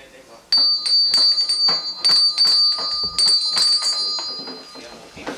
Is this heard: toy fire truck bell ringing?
yes